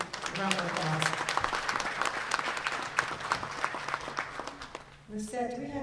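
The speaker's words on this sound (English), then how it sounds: "Let's give them a round of applause." A room of people applauds trustee members standing to be recognized, a dense steady patter of clapping lasting several seconds, with voices rising over it near the end.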